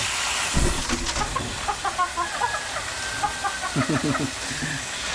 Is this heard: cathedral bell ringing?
no